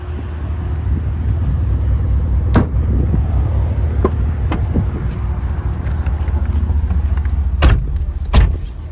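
2010 Chevy Camaro SS with automatic transmission on a test drive, a steady low engine and road rumble heard from inside the cabin with wind noise, a few brief clicks and knocks on top, no talking.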